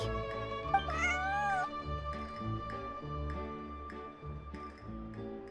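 A cat in the video game Genshin Impact gives one clear, drawn-out meow near the start, heard over steady background music tones.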